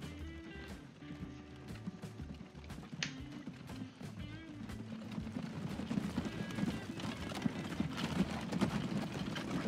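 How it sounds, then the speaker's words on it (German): Horse-drawn carts in the game Transport Fever, hooves clip-clopping steadily amid layered game ambience, with an occasional whinny, moderately loud and continuous. "Die ersten Pferdefuhrwerke kommen hier rausgejuckelt."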